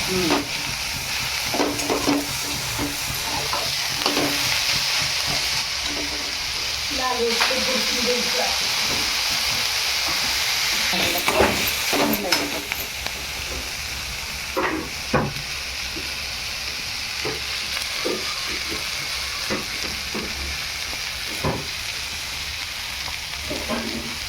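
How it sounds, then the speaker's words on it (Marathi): Chopped onion sautéing in a pan for an egg rassa masala, a steady frying sizzle with repeated scraping stir strokes throughout, moderately close, no talk over it. "कांदा परतून घ्यायचा."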